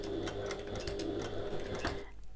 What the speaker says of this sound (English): I'm sewing back over the same line of stitching